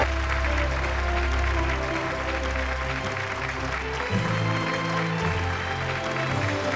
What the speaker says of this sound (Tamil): ஒரு மிகப்பெரிய கைத்தட்டலோட ஒய்ஜி மகேந்திரன் சார் அவர்களை மரியாதையுடன் மேடைக்கு அழைக்கிறோம்.